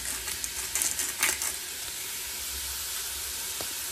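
Vegetables sauté in a pan with salt and white pepper, a steady close sizzle and hiss with a few light stirring clinks in the first second and a half.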